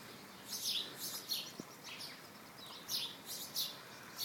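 A woodpecker calls near a house, giving repeated high, bright chirping calls in short bursts against a quiet outdoor background, with one faint low knock.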